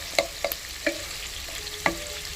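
Onions with a teaspoon of salt sizzle softly in a pan for a prawn malai curry, with a few sharp clinks of a spoon stirring against the pan over the quiet frying hiss.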